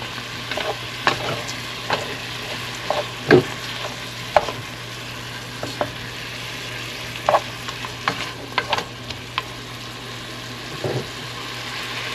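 Pork fries in a pan for adobo with string beans, a continuous sizzle under frequent scraping clicks and knocks as a utensil stirs it, fairly close and steady, with no one talking.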